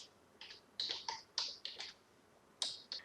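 Quick, irregular keystrokes clattering on a computer keyboard, a handful of crisp clicks close by in a quiet room.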